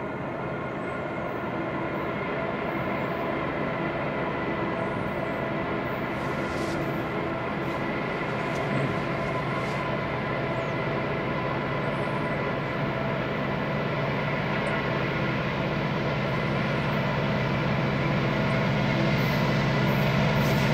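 CN freight train 148, with BC Rail locomotive 4602, rumbles past as a steady, loud, continuous roar of wheels and engines at close range, with no voices.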